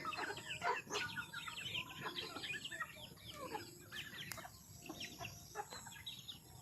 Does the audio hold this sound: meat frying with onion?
no